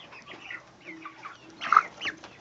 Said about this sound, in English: You're not being a very nice chicken, are you?